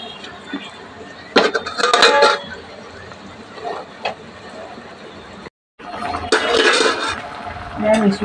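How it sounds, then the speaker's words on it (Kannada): A plate set over a pan of liver pepper fry as a lid makes bursts of metallic clattering and clinks, one cluster early and another later, while a voice talks nearby. "ತಟ್ಟೆ ಮುಚ್ತಾ ಇದ್ದೀನಿ ಈಗ ನಾನು"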